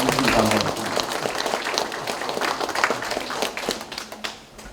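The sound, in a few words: applause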